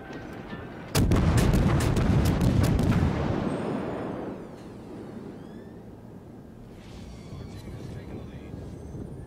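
Naval gunfire from the Mogami cruiser in World of Warships, a sudden heavy salvo boom followed by a long rumbling roar that fades over several seconds, with someone talking alongside.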